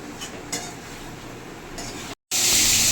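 Crab fries in a pan, a close sizzle mixed with stirring and light metallic clinks of utensils against cookware, broken by a brief silent gap before a louder burst of hissing.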